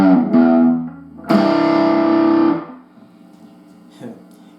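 Electric guitar with a distorted, effects-laden tone plays the opening of a song's solo slowly: two sustained chords ring loud, then the sound fades to a faint, rough-sounding last chord.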